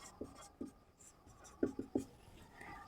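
Chalk or marker writing on a board during a class 10 maths lesson on HCF and LCM, five short, faint tapping strokes spaced unevenly in a quiet room.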